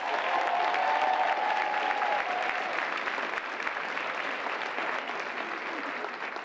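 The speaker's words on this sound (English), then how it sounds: "another round of applause for Hall of Famer Lisa Leslie." Sustained audience applause at a university event honoring a basketball Hall of Famer, steady dense clapping throughout, with a faint voice briefly heard near the start.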